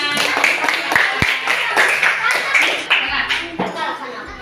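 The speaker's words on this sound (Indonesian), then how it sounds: "Berikan tepuk tangan." A class of students claps hands together in a brief burst of applause, close by, with talking and light laughter mixed in.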